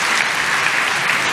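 A church congregation claps loudly and steadily in a dense, continuous burst of applause with no talk over it.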